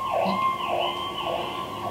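An ambulance siren wails steadily and loudly, its tone rising and falling in repeated sweeps with no voices.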